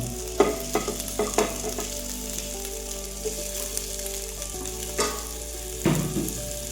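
Quartered tomatoes dropped into chicken curry frying in a pan, giving steady sizzling with stirring and a few louder scrapes and clatters of a spoon.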